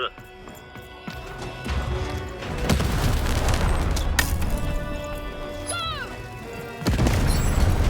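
Cannon fire in the video game Lost in Random comes as several heavy booms and crashes over a busy game soundscape, punctuated by sharp impacts at intervals, loud and close.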